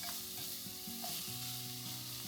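Fatty sausage frying in a pan for fried rice, a soft, even sizzle heard close up with faint stirring and a low background hum.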